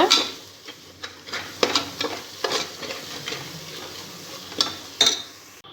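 Spices and cumin powder stirred into biryani in a pan at home: close scraping strokes of a spoon against the pan over a light sizzle, with a few sharp metallic clinks, no speech.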